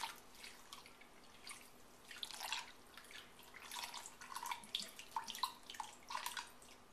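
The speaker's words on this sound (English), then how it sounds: "Then I'm going to pour my beef stock all over the top" Beef stock is poured over a roast in a slow cooker, a faint, uneven liquid splashing and trickling that comes in bursts, quiet and close.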